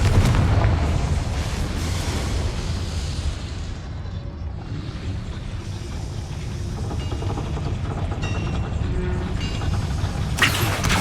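A Confringo fire spell explodes in the video game Hogwarts Legacy, a deep rumbling blast that rolls on as a sustained low roar for several seconds before a sharper burst near the end.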